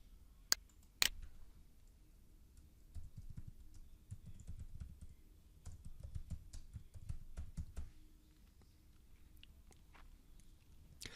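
Keystrokes on a computer keyboard, two sharp clicks at the start then a quiet run of rapid soft taps, close and faint, as a new email title is typed.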